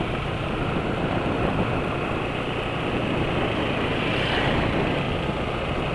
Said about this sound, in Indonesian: Tuh barusan suara motornya kasar,